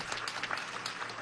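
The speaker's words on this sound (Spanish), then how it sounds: "pido un aplauso para estas mujeres" A crowd applauds a group of women textile producers, a short, steady stretch of dense clapping heard at moderate distance with no one talking.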